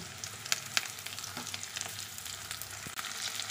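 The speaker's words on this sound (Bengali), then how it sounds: "পেঁয়াজটা আমি হালকা করে ভেজে নিয়েছি, এখন দিচ্ছি আলু" Onions and potatoes frying in oil in a pan, a steady soft sizzle with a few sharp crackles and spatters, no voices.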